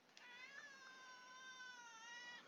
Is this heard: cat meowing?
yes